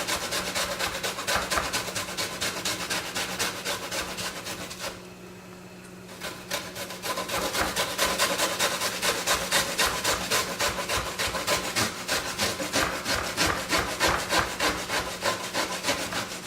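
Fresh ginger root scraped steadily against a grater in a home kitchen, a dense run of rapid rasping strokes, close and fairly loud, with a brief pause in the middle before the grating resumes.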